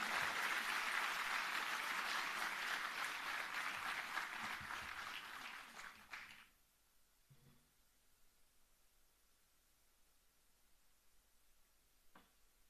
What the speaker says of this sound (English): to address the gathering with a huge round of applause